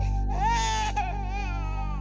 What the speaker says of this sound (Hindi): आपको ये किसी बच्चे की रोने की आवाज आ रही है?